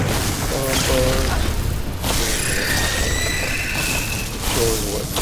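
Bomb bug explosions in the video game Enshrouded, several dull booms and bursts over dense, continuous game noise and music, with short tonal effect sounds scattered between them.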